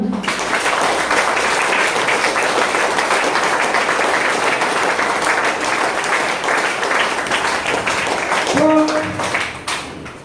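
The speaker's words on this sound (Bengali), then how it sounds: "প্রত্যেকের আপলাইনের জন্য একটা মন খুলে জোরদার হাততালি" Loud, sustained clapping from a crowd at an RCM business meeting, dense and steady for several seconds before tapering off near the end, with a brief voice rising over it.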